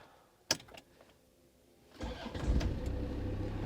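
A Land Rover Discovery 2 with a TD5 diesel engine and an 8-speed conversion: a sharp click, a brief quiet, then the engine cranks and catches into a steady, rumbling idle, heard close up with no talking.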